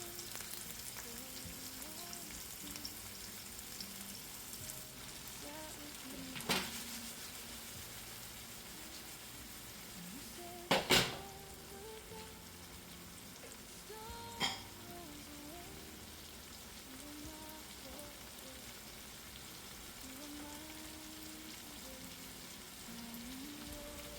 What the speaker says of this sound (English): I'm just gonna leave this for a minute for our vegetable to saute